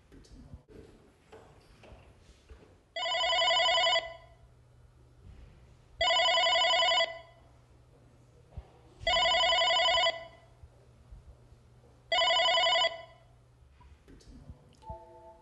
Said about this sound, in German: Dazu wird mein Kollege Silvio mir eine Nachricht auf dem Anrufbeantworter hinterlassen, die ich dann als Text auf mein Handy bekomme.